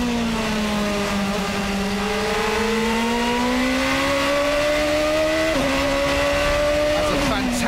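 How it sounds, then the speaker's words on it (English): A GP2 racing car's 4-litre Mecachrome V8 engine screams at high revs, onboard at Barcelona, pitch climbing steadily through the gears, loud and close, with a brief shift near the end. "The sound of the 4-litre V8 Mechachrome engine"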